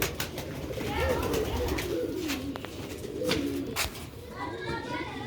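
Pigeons of a Sialkoti breed line cooing in a loft, soft repeated throaty coos overlapping one another against a busy background with clicks and rustles.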